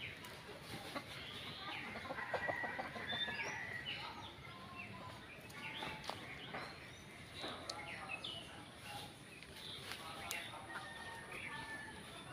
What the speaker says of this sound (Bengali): ওইখানে একটা কালো আর সাদার মধ্যে একটা চীন মুরগা, যেগুলারে আমরা বলি আর কি চীন মুরগি, এমন একটা দেখলাম।